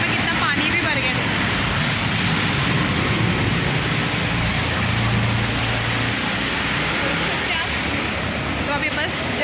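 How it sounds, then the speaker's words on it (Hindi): Heavy rain falls outdoors in Kharghar as a constant, loud wash of broadband hiss with no letup. Someone talks faintly beneath the downpour. "बारिश बहुत हो रही है"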